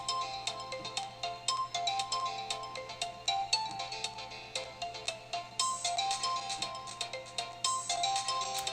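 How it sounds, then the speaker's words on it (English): A phone ringtone rings repeatedly, a bright electronic melody looping in short regular bursts, moderately close and alone without talk. "I'll wait for that to get done ringing."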